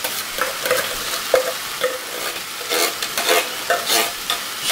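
A big spoon stirring food in a pan over a stove, repeated scraping strokes and clinks over a continuous sizzle, fairly close and loud.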